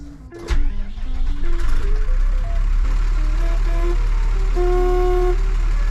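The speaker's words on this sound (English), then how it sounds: "That horn sounds sick." A Cummins 12-valve diesel RV sounds its horn in a few short honks, then a longer tonal blast, loud and close over the steady rumble of the idling diesel engine.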